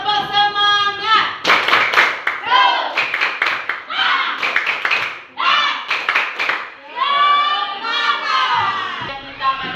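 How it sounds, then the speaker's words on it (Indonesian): Children doing a rhythmic spirit clap (tepuk semangat) in a classroom lesson: bursts of patterned clapping mixed with chanting children's voices, loud and close, in short repeated phrases. "Tepuk semangat."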